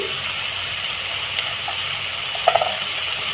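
Chow-roti mixture with tomato and a pinch of Kashmiri chilli powder frying lightly in a pan: a steady low sizzle throughout, with a few soft clicks of a utensil against the pan near the end.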